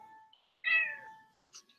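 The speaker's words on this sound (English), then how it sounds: "This is my Norwegian-looking forest cat." Single drawn-out meow from a Norwegian forest-type cat, close and clear, with a faint softer chirp shortly after it and quiet surroundings.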